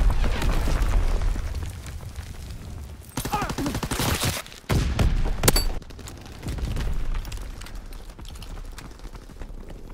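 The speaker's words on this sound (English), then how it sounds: "Enemy mortar fire incoming." Enemy mortar fire lands in a shooter game as a run of heavy, close explosions. Sharp cracking blasts and booms stack over continuous battlefield rumble.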